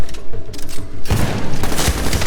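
Loud, dense bursts of gunfire in the Medal of Honor Warfighter video game, with softer rumbling at first, then a rapid, heavy barrage of shots filling the second half.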